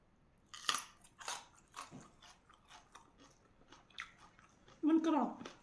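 Someone biting and chewing crunchy young bitter gourd, with close crisp crunches in an uneven rhythm, followed by a brief voiced sound at the end.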